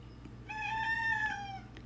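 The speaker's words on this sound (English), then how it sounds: "My cat is meowing in the background." House cat meowing once in a drawn-out, rising-then-falling cry, clear over a low background hum.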